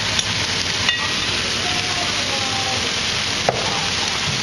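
Meat cooking in a pan gives a steady, fairly loud sizzle with a dense, hissing texture and a few sharper ticks and clinks, continuous and close for the whole stretch.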